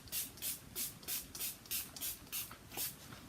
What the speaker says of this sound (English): let's get some Ofra setting spray or makeup fixer.